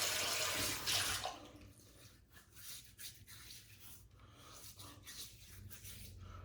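Tap water runs steadily while a face is rinsed during a wet shave, loud and splashy at first, then settling into a softer, continuous flow with light rubbing.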